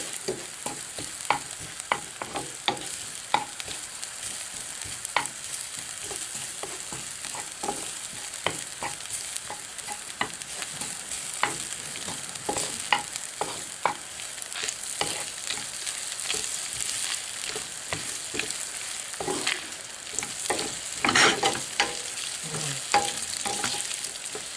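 Bacon and garlic browning in a pan while pasta cooks, a steady close sizzle with frequent scraping stirs and light clinks of the utensil throughout, no voices.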